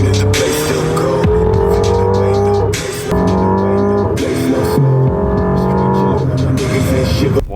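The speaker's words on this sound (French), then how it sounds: "On n'a pas pu s'empêcher de refaire un tour de voiture, vous en doutez bien quand on a 750 chevaux dans le garage" A 750-horsepower sports car engine revving hard while driving, loud and close, with repeated gear shifts and brief drops between pulls, and voices faintly underneath.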